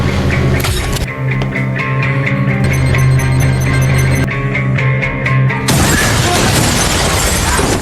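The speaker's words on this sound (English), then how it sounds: "After the glass shattered, the drone flew into the house and started shooting wildly." Bulletproof glass shatters under a barrage of clay bombs fired from a drone's small cannon, a sudden loud crash and spray of fragments following a run of mechanical thumps and booms.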